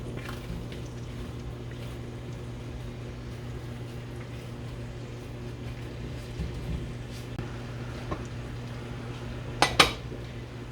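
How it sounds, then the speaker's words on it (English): Apples go into a pan of melted butter for frying fried apples. Quiet clinks of the pan and utensils sit over a low kitchen hum, with a louder metallic clatter near the end. "Okay, my butter's melted. Let's put our apples in."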